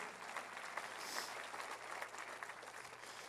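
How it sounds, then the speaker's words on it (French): A church congregation applauds together during a French-language Sunday service, soft and steady clapping heard from a distance with no talking. "est-ce qu'on peut applaudir une communauté de générosité?"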